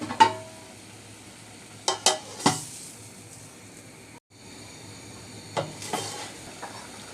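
Okra with shrimp fries in a pan, a steady close sizzle broken by several sharp scrapes and knocks from stirring, with a brief drop in the sizzle partway through.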